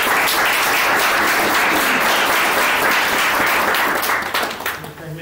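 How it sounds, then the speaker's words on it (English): At a business school fireside chat, the audience applauds loudly and continuously, a thick roar of clapping that tapers off in the final second. "Please give yourselves a round of applause"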